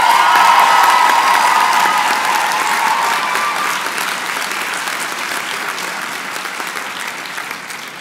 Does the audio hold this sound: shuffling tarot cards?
no